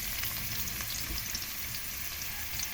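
Sliced garlic fries in a pan with a dense, even sizzle heard up close, continuous for a few seconds without any talking.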